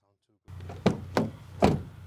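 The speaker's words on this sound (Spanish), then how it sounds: "Veamos cómo suena la puerta." The door of a 2021 Mazda is swung shut, producing three dull, close thumps within a couple of seconds.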